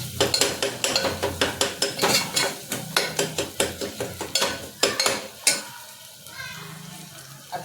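Tomatoes stirred in a pan after the lid comes off, with a rapid, rhythmic run of close spatula scrapes and knocks against the metal over a low sizzle, then a quieter stretch with one final clack.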